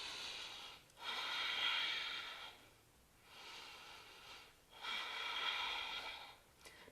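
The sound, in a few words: deep breathing during yoga plank pose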